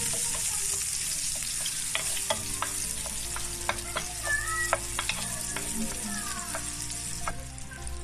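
Garlic and then onion fry in a pan for chopsuey, a steady close sizzle broken by scraping and clinking of a spatula stirring against the metal.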